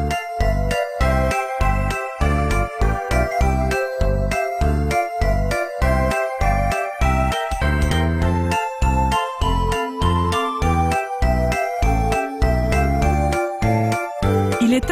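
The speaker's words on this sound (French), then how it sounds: "Avec des morceaux rappelant très fortement le célèbre Jingle Bells avec ses rythmes enjoués et ses cloches." Christmas-themed music from the video game Super Princess Peach, with a bouncy Jingle Bells-like rhythm, jingling bells and bright chiming melody over steady, punchy beats, loud and continuous with no voices.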